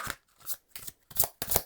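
Oracle cards being shuffled and drawn by hand, giving several short papery riffling bursts close up, separated by brief pauses, with no talking.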